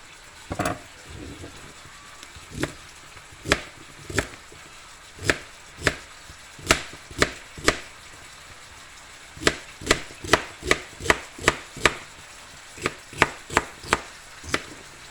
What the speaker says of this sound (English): Let's get these cut up. It's our celery.